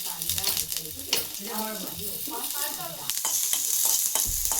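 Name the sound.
green chillies frying in a pan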